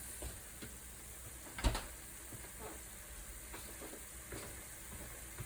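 Turkey meat for a spinach salad cooks in a pan with a soft, steady sizzle and one brief clack partway through, quiet and close, without talking.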